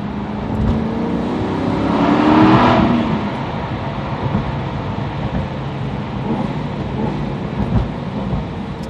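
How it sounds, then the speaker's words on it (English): A vehicle passes nearby with a swelling rumble and whoosh, then steady low traffic noise continues in the background. "Oh, traffic, come on, really?"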